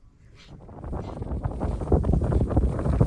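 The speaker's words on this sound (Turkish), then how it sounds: "Hava bozdu biraz. Çok rüzgar başladı." Strong wind buffets and roars across the microphone while pike fishing, building in force, with low rumbling gusts and a faint water or boat sound beneath.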